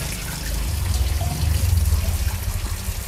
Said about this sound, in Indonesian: Ini fungsinya aliran vortexnya seperti ini, jadi akan berputar airnya.